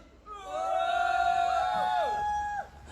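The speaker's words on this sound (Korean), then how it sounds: "여러분들의 힘찬 함성으로 힘차게 한번 시작해봤으면 좋겠습니다" Crowd at an outdoor candlelight rally protesting a THAAD missile deployment lets out a loud, sustained collective shout lasting about two seconds before dropping away.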